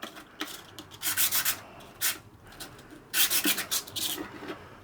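A brass face is roughened by hand with a back-and-forth abrasive rubbing, heard as quick, close rasping strokes in two clusters with a brief single stroke between them and no speech.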